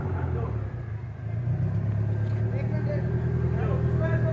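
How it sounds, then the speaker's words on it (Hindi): A car is backed up slowly and carefully, its engine holding a low, steady idle rumble close by while people talk over it. "गाड़ी को हम सेफ तरीके से पीछे लेके जा रहे हैं"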